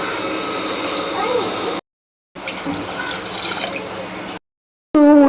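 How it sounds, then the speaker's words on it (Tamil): Water is poured from a tumbler into a pot of seeraga samba rice for prawn biryani, in two steady splashing pours separated by brief silences, close and fairly loud. "இந்த மாதிரி வந்து டம்ளரில் 5 கிளாஸ் தண்ணி வந்து ஊற்றிக்கோங்க"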